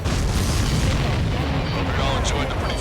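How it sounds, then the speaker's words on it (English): In the combat flight game Ace Combat 7, a missile strike sets off a heavy, rumbling explosion that rolls on under radio chatter, with a few sharper bursts toward the end. "The missile hit its target. Everybody, keep a safe distance to avoid getting caught in the explosion."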